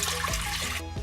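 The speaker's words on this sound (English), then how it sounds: "So into our pot we'll give the water" Water poured into a cooking pot for orange cinnamon punch, a steady close trickling and splashing stream that runs for about a second with no talking.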